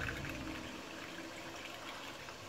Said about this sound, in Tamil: இதில் இருக்கிற தண்ணியை வேஸ்ட் பண்ண வேண்டாம். அதை இதுக்கே வடித்து ஊற்றிக்கலாம்.